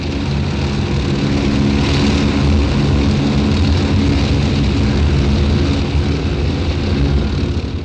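Loud, steady rotor and engine drone from military helicopters hovering in formation, a continuous mechanical roar with a low throbbing beat, close by and unbroken.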